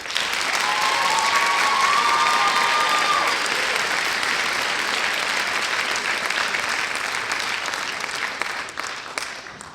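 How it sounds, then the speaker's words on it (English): A concert audience claps for a high school symphonic honor band, producing loud, dense, sustained applause that fills the space and tapers slightly toward the end. "One more round of applause for their first performance."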